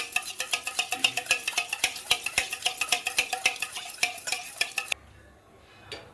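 Four eggs beaten in a bowl with a utensil, a fast, even clinking whisk rhythm up close that stops abruptly near the end.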